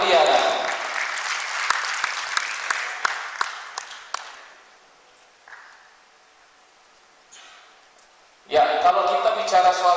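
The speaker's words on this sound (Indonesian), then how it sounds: "Kita beri tepuk tangan untuk Ibu Duma Riana." Audience applause for a speaker at a national banking seminar fills the hall loudly and evenly for several seconds, then thins to a few scattered claps and fades before a voice starts speaking over a microphone.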